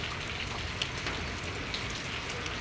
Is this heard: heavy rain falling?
yes